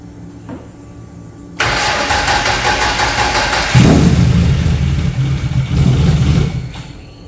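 A forged RB30 turbo engine, its battery low, cranks over and catches, settling into a loud steady idle with a couple of surges, preceded by quiet background hum.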